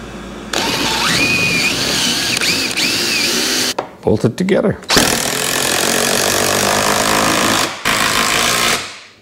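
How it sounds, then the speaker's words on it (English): A loud power drill whines steadily boring into the end of a wooden 2x6, pausing briefly mid-way with clattering handling noise before boring again; a voice speaks briefly. "we'll drill into the end of the 2x6"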